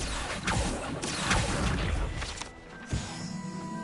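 The Accio summoning spell from the Hogwarts Legacy video game sounds as a dense rush of whooshing, crashing game noise with a few thumping hits, settling into a quieter tail.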